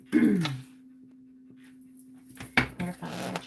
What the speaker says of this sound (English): I'm not panting back here. It's just the dog.